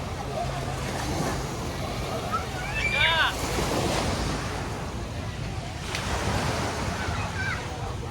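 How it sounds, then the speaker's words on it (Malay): Sea waves rolling onto a busy beach at Pantai Bumi Hijau, Sabak Bernam, Selangor, heard as a steady wash with wind buffeting the microphone and faint distant voices and bird-like calls mixed in. "Semua datang untuk tengok pantai, ombak kat pantai ni."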